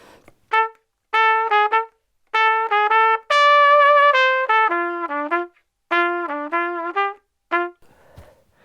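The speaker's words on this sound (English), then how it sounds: "So if we just add a bit of vibrato, it makes it sound more alive." Trumpet playing a short jazzy étude phrase with connected notes and swung rhythm, held tones carrying vibrato; a bright, close solo line in several bursts separated by brief pauses.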